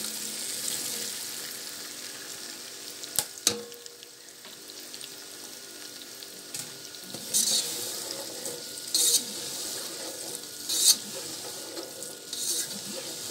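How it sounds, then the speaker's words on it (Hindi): Okra (bhindi) frying in hot oil, a moderate sizzle with occasional sharp clanks and several bursts of stirring and louder crackle. "भिंडियों को आप अच्छा सा फ्राई कर लें।"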